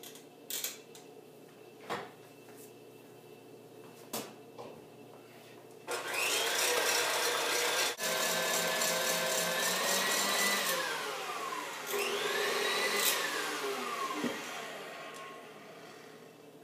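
An electric mixer whips egg whites to stiff peaks, starting after a few clicks and taps with a loud, steady whirring that shifts in pitch as the beaters move, then fades and ends with a light tap.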